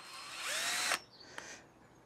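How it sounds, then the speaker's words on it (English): An electric drill drills through old holes while fitting a car number plate. It whines and revs up for about a second, then stops abruptly, followed by a brief second burst, close and loud. "with your trusty electric drill, using the old holes as a template"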